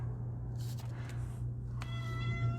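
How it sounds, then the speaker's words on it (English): A cat lets out a drawn-out, yowling meow near the end, loud and close, after a few softer cries over a steady low household hum. "Oh, there's my cat."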